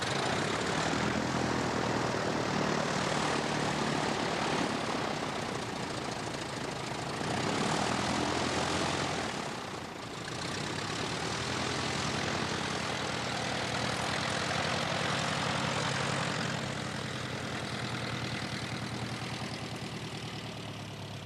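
A small trainer aircraft in flight, its propeller engine droning loud and continuous throughout, with slight swells and dips in intensity.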